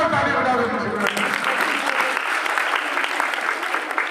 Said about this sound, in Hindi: अब जोरदार ताली बजा दो